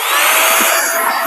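A DF64 coffee grinder with a new declumper kit runs with a loud, steady high-pitched whir, heard up close and alone for just over a second.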